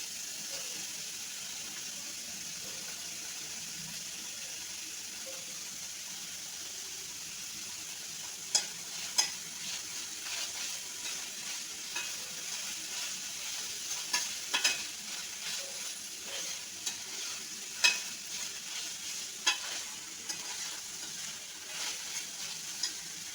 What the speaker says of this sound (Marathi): आणि हे आता चांगलं मिक्स करून घ्यायचं फास्ट गॅसवरतीच मिक्स करायचं